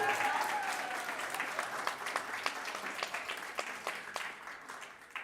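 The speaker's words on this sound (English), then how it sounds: "Let's give them a big round of applause" Applause at a primary school speech contest, with many hands clapping together for young learners in a busy, fairly dense patter that stays steady and fades slightly, with a faint murmur of voices under it.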